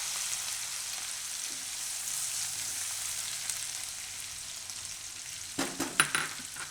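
Green chillies sizzle in hot oil with curry leaves and asafoetida, cooking for a sprouted fenugreek and potato dish. A steady, moderate hiss runs throughout, and a few sharp clinks and stirring knocks come near the end.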